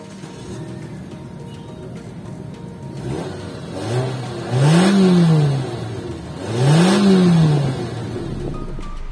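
A Nissan Grand Livina MPV with an Xtronic CVT accelerating twice, the engine note swelling and rising smoothly in pitch each time before easing off, heard nearby over a steady background hum.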